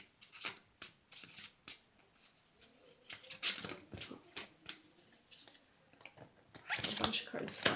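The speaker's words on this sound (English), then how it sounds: "let me shuffle one more on that" Tarot cards shuffled by hand in quick bursts of riffling and flicking, close and crisp, with pauses between runs and a louder flurry at the end.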